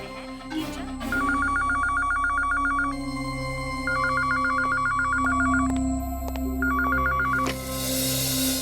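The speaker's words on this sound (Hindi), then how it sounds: "सर आपका फोन।" A telephone in a police office rings in repeated bursts of rapid electronic trilling, three rings separated by pauses, over low background music and ambient tones.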